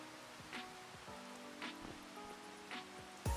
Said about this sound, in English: it's currently raining on the server